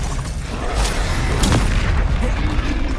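Confringo fire spell blasts in the Hogwarts Legacy video game, a dense, loud barrage of booming explosive bursts with a sharp crack near the middle, mixed with continuous spell-combat noise.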